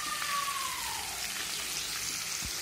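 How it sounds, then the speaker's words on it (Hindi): Soya chaap deep frying in hot oil gives a steady, close, even sizzle and crackle that carries on without a break, with no voices over it. "इसे हल्की सी हम एक से दो मिनट और फ्राई होने देंगे।"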